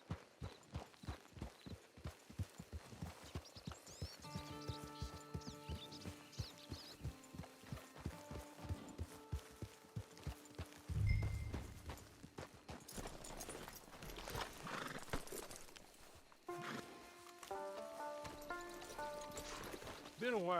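Horse hooves clip-clop at a steady walking rhythm in Red Dead Redemption 2, close and regular, with tonal game music and a voice talking over the middle and later stretch.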